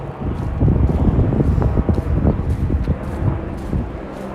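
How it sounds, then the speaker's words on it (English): Strong wind buffeting a microphone during an outdoor walk in Regina's Lakeview area, a continuous low rumbling roar with irregular gusty thumps and no speech. "It's a lot windier than I thought it was."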